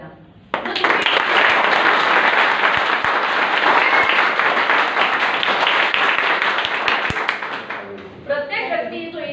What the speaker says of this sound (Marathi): स्वतःसाठी जोरदार टाळ्या वाजवा